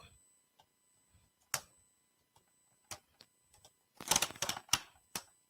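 Sharp mechanical clicks from the stops of a storm window as the sash is moved, arriving as scattered single ticks and then a quick cluster of louder clicks near the end, close and in a quiet room.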